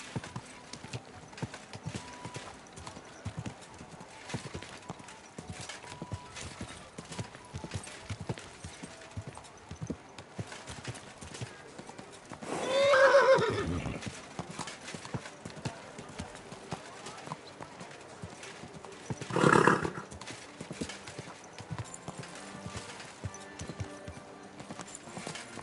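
A horse's hooves clip-clop steadily in the medieval video game Kingdom Come Deliverance 2, with two louder bursts of snorting or neighing partway through; a voice speaks briefly.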